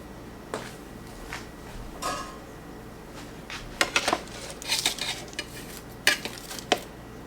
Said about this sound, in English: we're just going to plate this up